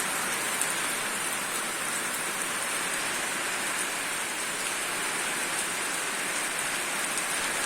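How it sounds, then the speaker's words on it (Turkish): Heavy rain pours steadily after the sky clouds over, a dense, even hiss of drops on surfaces that holds without pause, close and fairly loud. "Hava kapandı, yağmur direkt geldi ama e, güzel yağdı yani."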